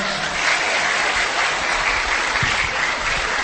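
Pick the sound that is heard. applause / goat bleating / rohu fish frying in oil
applause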